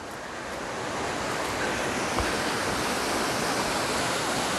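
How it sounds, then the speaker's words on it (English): Rushing water at Sandoa Waterfall in Bhimber, Azad Kashmir, forms a broad, steady roar that swells slightly over the first second and then holds constant, with a hint of wind on the microphone. "This is Sandoa Waterfall."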